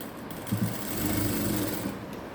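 An electric sewing machine stitching paper canvas into a blouse neck, a short close burst of fast, even mechanical whirring that starts after a brief pause and stops within about a second and a half.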